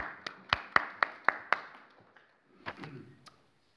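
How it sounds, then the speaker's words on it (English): A small sermon congregation gives a short burst of applause: about six sharp, evenly spaced claps up front, then a few scattered, fainter claps trailing off into near silence. "Give yourself a round of applause."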